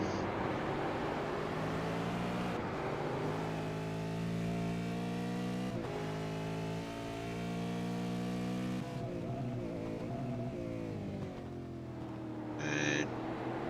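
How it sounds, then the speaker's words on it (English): V8 Supercar race cars at Bathurst scream by one after another, engines revving hard, dropping sharply under braking, then accelerating again, with a brief squeal of a locking brake near the end. "You can hear the brake locking up for McDonald there just a little bit."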